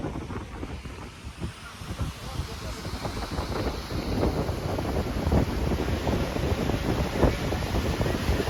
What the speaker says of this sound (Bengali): হাওয়াটার আওয়াজ প্রচুর আসছে, আর এখানে জলের আওয়াজ, হাওয়ার গতিটা এখন প্রচুর।